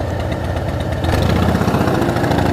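A Harley-Davidson motorcycle engine idles close by, a loud, steady low throb with a faint knocking pulse that grows slightly stronger partway through.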